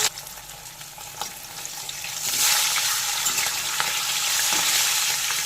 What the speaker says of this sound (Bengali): তেল গরম হয়ে গেছে, এবার নুন হলুদ মাখানো ইলিশ মাছগুলোকে দিয়ে দিচ্ছি।